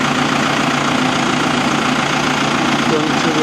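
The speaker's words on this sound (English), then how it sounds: "the other tractor being started" A farm tractor idles after starting, a steady low rumbling engine hum throughout, with a voice talking over it.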